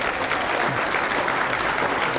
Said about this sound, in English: we might keep that applause going for the three teams that have gone through to the 2014 Grand Finals